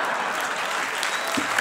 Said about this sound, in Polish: dajcie jeszcze raz wielkie brawo jednemu i drugiemu